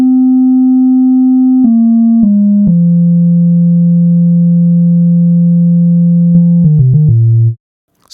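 A plain synthesized sine-wave bass plays a short stepped line of sustained low notes with a long held tone in the middle, loud and clean, then a few quick note changes before cutting to silence.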